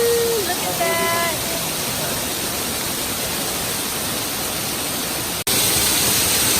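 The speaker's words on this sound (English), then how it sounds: "So we are behind the waterfall now." A waterfall roars steadily at very close range, seen from behind the falling water on a trail, a dense broadband rush that fills the clip with a brief dropout near the end and a short tonal chirp at the start.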